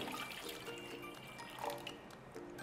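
Water is poured into a pot on a kitchen stove for a quick tamarind chutney, a faint, soft splashing trickle heard close, with a slight swell partway through.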